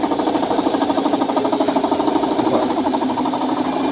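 A Jackhammer-like mechanical drone in a painting workshop where epoxy enamel and acrylic are sprayed, steady and loud with a regular pulsing rhythm, running continuously throughout.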